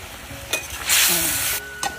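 Ginger, chilli and cumin paste with a splash of water and salt sautéing in a pan for a catla fish and cauliflower curry, a close sizzle with a loud hissing burst midway and a few stirring clicks, no talk.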